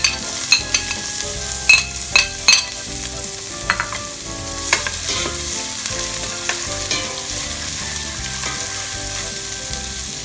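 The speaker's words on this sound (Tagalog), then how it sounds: "So magigisa lang po tayo ng garlic." Garlic and onion sauté in a hot pan for adobong pusit, giving a loud continuous sizzle broken by the clatter of a utensil stirring and scraping.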